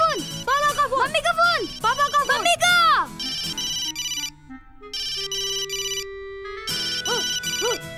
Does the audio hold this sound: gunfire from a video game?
no